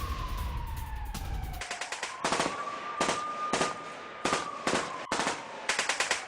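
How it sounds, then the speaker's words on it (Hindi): Automatic gunfire from Ukraine's Skala battalion in a combat zone: repeated bursts of rapid shots, loud and sharp with pauses between, over a continuous wavering siren-like tone. "यूक्रेन की स्काला बटालियन की फायरिंग का वीडियो आया सामने"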